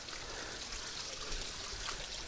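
Water trickles and burbles steadily at the Bhima river source beside a temple near Bhimashankar, Maharashtra, a soft continuous stream with no voices.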